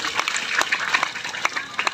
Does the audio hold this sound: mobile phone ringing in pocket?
no